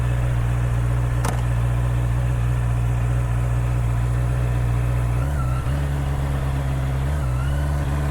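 A Honda motorcycle with E-Clutch idles steadily and close by, its engine note shifting slightly as it is put into gear partway through, with a brief click early on.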